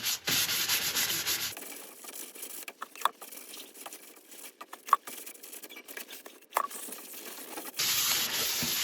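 A cloth soaked in isopropyl alcohol is rubbed over a turned wooden piece to clean its pores, giving close, rough swishing strokes at the start and end, with a quieter gap of scattered small taps and scuffs in between.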